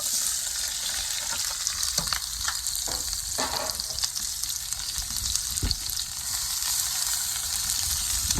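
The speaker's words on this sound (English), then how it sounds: "We're gonna go ahead and saute our vegetables." Fresh vegetables sautéing in a hot pan for a brown stew catfish, a dense, even hiss of frying close by, with a few light scrapes and taps as they are moved around.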